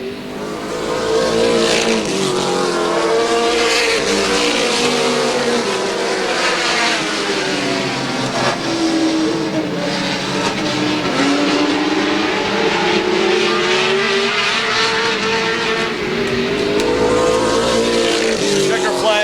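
Stock race cars lapping the oval at Lorain County Speedway in 1987: loud engines roar and drone continuously, rising and falling as cars pass, under a race announcer's commentary.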